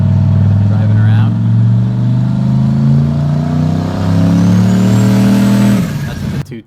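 Modified Chevrolet Colorado truck driving around, its engine holding a loud, steady drone with slow pitch swells as it pulls along, then easing off and dropping away near the end.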